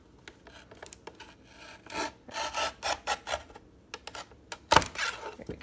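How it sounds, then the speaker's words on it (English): A Tim Holtz guillotine paper trimmer shaves a tiny strip off an envelope edge in a run of short, close rasping strokes, followed by a sharper snap near the end. "going to trim off the tiniest amount, and so that will create those pockets and open up our envelope here"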